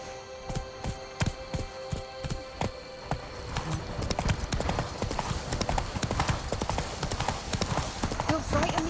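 Hooves of Roach, Geralt's horse in The Witcher 3, clip-clop in a steady trot, sharp and near at first, then a denser, quicker patter of hoofbeats under music and ambient game sound, with a voice speaking.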